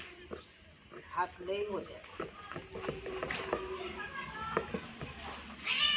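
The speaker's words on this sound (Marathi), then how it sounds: "मांजर मांजराचं भांडण लागलं" Cats yowling and squealing in a scuffle, rising cries over background chatter and clatter, with a sharp screech near the end.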